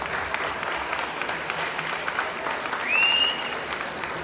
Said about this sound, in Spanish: El aplauso, vamos, para Luciano.